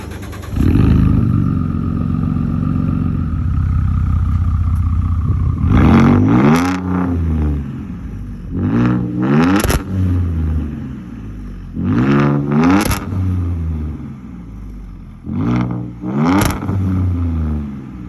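A 2016 Ford F-150 3.5L EcoBoost V6 warm-starts with a loud roar and settles into a rough idle, then revs sharply several times through straight-piped true dual exhaust.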